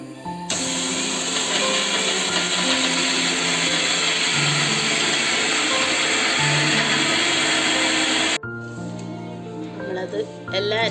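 A mixer grinder blends a coconut mixture with a loud, steady whirring whine for about eight seconds, then cuts off abruptly, leaving quieter kitchen sounds.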